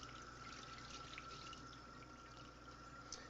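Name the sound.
rinsing salted meat under running water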